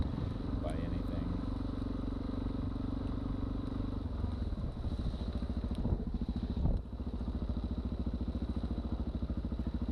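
Light dual sport motorcycle ridden along a muddy road through a field, its engine droning steadily throughout with clattering and bumps over rough ground, close and fairly loud.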